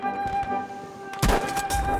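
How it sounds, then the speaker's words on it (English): A sniper rifle shot in Battlefield 5 cracks out sharply after a quieter stretch of ambient hum, followed by a few fainter impacts and rumbles. "I just shot someone through a tiny little crack"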